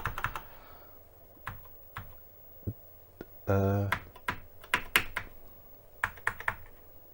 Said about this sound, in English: there's actually a few keys that, yeah, they work, but you need to press pretty hard